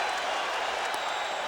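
A baseball stadium crowd roars and cheers steadily after back-to-back strikeouts in Game 7 of the 1986 World Series, a dense, continuous wash of noise without a break.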